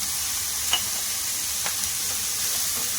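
A biryani mixture with added salt is stirred as it fries in a pan over high flame, giving a steady close sizzle with a few soft scraping strokes.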